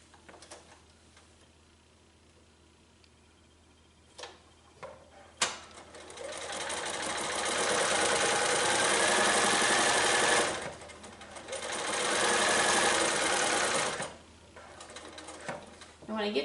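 A sewing machine stitches binding onto a small quilt in two long, loud runs of steady mechanical whirring, preceded by a few clicks and taps as the work is positioned.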